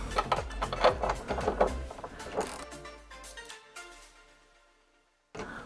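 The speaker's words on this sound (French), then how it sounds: "je vais commencer par dévisser l'écrou qui permet de gonfler le joint pour maintenir la résistance sur la cuve" A nut being unscrewed on a washing machine heating element, with dense metallic clicking and rattling as the tool works, close by; it fades out toward the end before a sudden return of noise.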